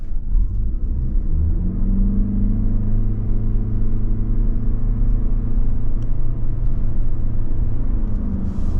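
A 2024 Toyota Grand Highlander Hybrid Limited drives steadily down the road, its cabin filled with a continuous low rumble of tyres and engine that holds even and loud throughout.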